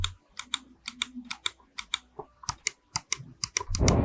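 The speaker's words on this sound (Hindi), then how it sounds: "क्लिक करने पर आपको इस टाइप का एक शार्प क्लिक सुनने के लिए मिलेगा।" Sharp, tactile clicks from a gaming mouse's buttons, about fifteen crisp, evenly paced presses heard up close and alone, with a louder rattling handling noise at the very end.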